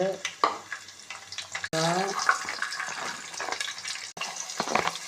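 Mustard seeds crackle and splutter in hot oil in a pan while tomato rice is being made, with sharp pops and a brief sizzle burst partway through.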